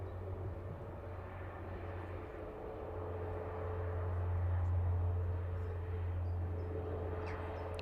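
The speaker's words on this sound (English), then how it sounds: "Ah, Canadian, Royal Canadian Air Force Hercules." A Royal Canadian Air Force Hercules at Manchester Airport, a faint, distant engine drone with a steady low hum that swells slightly midway, under light background noise.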